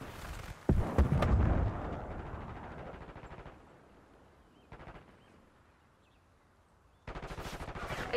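Gunfire in the Call of Duty Black Ops 6 video game: a dense burst of rapid automatic shots and booming blasts at the start, fading to a low rumble and a lone short burst, then another stretch of rapid fire at the end.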